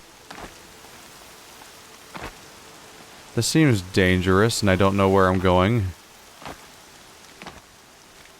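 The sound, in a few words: rain in the video game Horizon Zero Dawn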